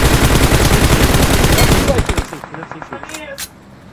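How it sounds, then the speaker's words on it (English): Rapid, loud bursts of automatic gunfire in the mobile battle royale game PUBG Mobile crackle in quick succession, then thin out into a few scattered shots before fading. "Bobby, they shot."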